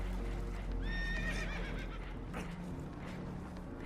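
In Red Dead Redemption 2, spooked horses let out a loud shrill whinny aboard a boat taking on water, amid rushing water and clattering noise.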